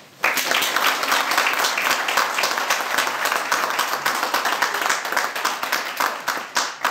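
A Scottish Parliament audience at a gender equality and health event bursts into sustained applause, dense, even clapping starting abruptly and continuing at full strength without voices.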